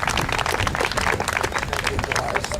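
A live audience at an Illinois AFL-CIO event gives a dense burst of applause and clapping for Secretary-Treasurer Tim Drea as he takes the stage, steady and fairly close.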